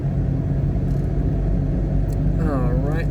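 Mitsubishi Mirage engine held at 2,000 RPM while climbing a mountain road, a steady low drone and rumble that continues alone throughout with a faint whine rising near the end.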